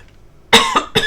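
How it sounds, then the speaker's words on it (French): A brief silence, then a close, sharp cough burst followed by two shorter coughs in quick succession. "Je tousse"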